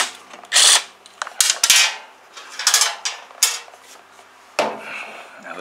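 A 10 mm wrench works the nuts on a Toro push mower, giving several sharp metallic clanks and ratcheting scrapes in irregular bursts, close and fairly loud with short quiet gaps between.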